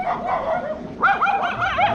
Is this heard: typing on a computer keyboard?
no